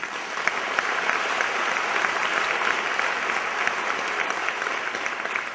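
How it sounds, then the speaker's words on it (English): Audience applause during a talk, a thick, continuous patter of many hands clapping at a constant moderate level, heard from some distance in a large room. "So one big applause for brave Iranian woman"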